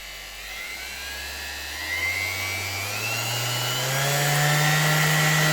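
An electric motor on an appliance runs at first gear, its whirring hum climbing steadily in pitch and loudness as the speed is raised, with a loud whine near the end.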